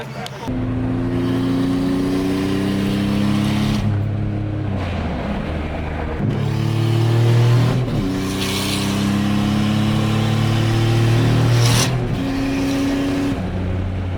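A car accelerates hard through the gears, the engine note climbing in loud, close revs that break at each shift, about three rising pulls in a row.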